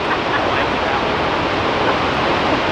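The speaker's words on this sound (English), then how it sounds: "So here we are at the Shoshone Falls" Water rushes at Shoshone Falls, a broad, steady roar of falling water that stays loud and unbroken throughout, with no voices.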